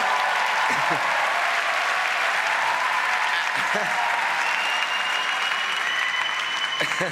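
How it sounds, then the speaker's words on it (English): A large theatre audience at the Olivier Awards gives a sustained round of applause for a stage show's cast, steady and full, with a few faint voices and whoops rising above the clapping. "Our beautiful cast are up here somewhere. Could you give them a round of applause?"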